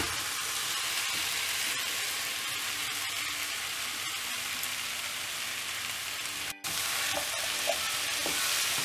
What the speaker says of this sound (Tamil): இப்போ இதிலேயே நல்லா வதக்கி விடணும்.